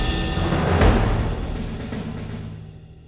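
Full orchestral passage played at a fast tempo without harp, with snare drum, timpani, tubular bells and bass drum in the mix; a loud accented hit near the start rings out, then the ensemble sustains and fades toward the end.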